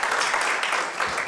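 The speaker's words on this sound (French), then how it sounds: "Je crois que vous pouvez applaudir Jean-Pierre qui le mérite." Audience applause at a poetry reading event, a dense steady wash of many hands clapping throughout, fairly loud and close, with no clear voices over it.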